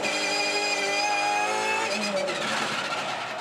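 A race car engine screams at high revs, heard onboard during practice at the Sandown 500, its pitch dropping as it brakes into a turn and then rising again as it accelerates.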